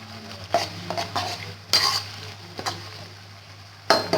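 Curry leaves, cumin seeds and whole dried red chillies stirred in a pan, with a few distinct spoon scrapes and clinks against the metal over a faint steady sizzle, close and alone.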